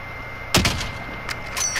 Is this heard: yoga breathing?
no